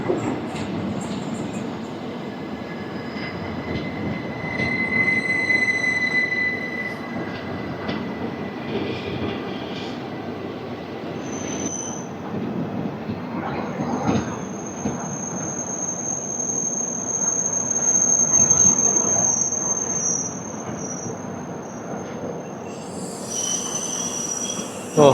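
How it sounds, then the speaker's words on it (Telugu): A 17258 Lingampalli–Narsapur express hauled by a WAP-4 electric locomotive rolls past, its wheels squealing high over a steady rail rumble for about 25 seconds, with no voices. "17258 లింగంపల్లి నుంచి నర్సాపూర్ వరకు వెళ్ళే ఎక్స్ప్రెస్ ట్రైన్"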